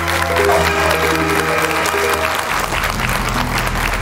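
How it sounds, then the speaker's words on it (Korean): A studio audience on a television antiques appraisal show claps loudly and continuously. Steady music with sustained tones plays under the applause for the first half before dropping away. "여러분 박수 보내주십시오."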